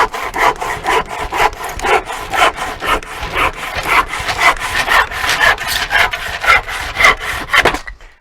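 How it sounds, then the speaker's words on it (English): A hand saw cuts through old pallet wood in steady back-and-forth strokes, each one a rasping, scratchy burst. About fifteen close, loud strokes run at a quick even rhythm, with no talking. "I've just changed saws, the other one was a bit blunt."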